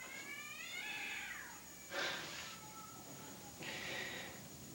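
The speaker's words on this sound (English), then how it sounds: "It's a cat on a garbage can." A cat on a garbage can lets out drawn-out wavering yowls and meows, close and fairly clear, with a few separate cries over a quiet background.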